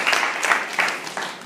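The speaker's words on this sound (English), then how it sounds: "let's give him a round of applause." A short burst of audience clapping at a teacher workshop, with a few distinct pulses of claps in quick succession, moderately loud and without talk.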